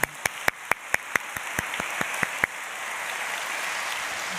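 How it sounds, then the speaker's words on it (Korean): A church congregation breaks into applause during a Korean Sunday sermon, first a run of about ten sharp, evenly spaced claps, then a softer continuous patter of many hands clapping at moderate distance. "하나님에게 우리 감사와 영광의 박수를 올려드리겠습니다."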